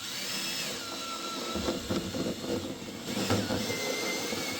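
A power drill bores a hole from the inside during a DIY GMRS repeater build, whining with shifting pitch and a steady grinding rumble, close by with a few heavier bursts.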